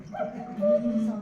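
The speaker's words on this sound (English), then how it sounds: "Now we have the original cuckoo sound." A short recorded cuckoo call from an electronic cuckoo clock sounds twice from a small speaker, two tonal notes, the second steadier and louder.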